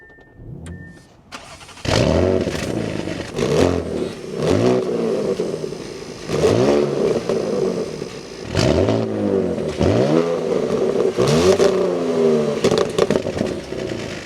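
A 2025 Audi S7 engine cranks and catches, then revs up and down repeatedly in rising and falling sweeps, loud and close, with no talking.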